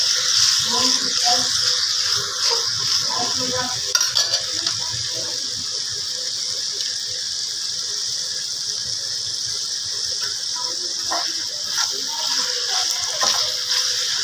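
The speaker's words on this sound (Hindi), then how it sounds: "तो ऑयल गर्म हो चुका है, तो मैं फ्राई करने के लिए चिकन को ऐड कर दिया इसमें" Chicken pieces frying in hot oil give a steady, fairly loud sizzle and bubbling with occasional clinks of a utensil, under someone talking throughout.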